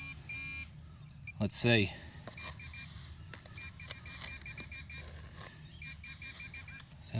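Metal detector on a rocky Australian beach gives repeated short electronic beeps over a very small buried target, with a sharp rising chirp early on, fairly faint, and someone speaking briefly.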